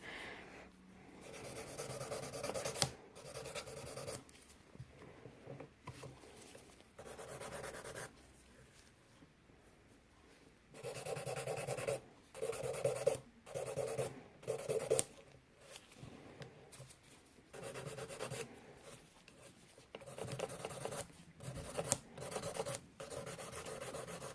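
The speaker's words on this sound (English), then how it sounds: "So 240 grit file, I'm continuing." A 240 grit file rasps against a nail, a soft, close scratching in quick back-and-forth strokes that come in bursts separated by short pauses.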